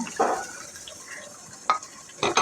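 Fried koi fish drop into a pan of cooked-down spices, giving a short sizzling scrape followed by quieter stirring and two more sharp splashy clatters near the end.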